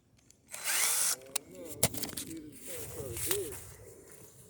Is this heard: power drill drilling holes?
yes